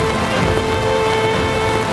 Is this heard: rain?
yes